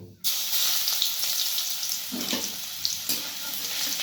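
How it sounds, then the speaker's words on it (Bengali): Bay leaf and garlic tempering dropped into hot oil in a kadai, bursting into a sudden loud sizzle that continues steadily with crackling spits and a few stirring scrapes. "সামান্য পরিমাণে একটু রসুনের ফোড়ন দেব"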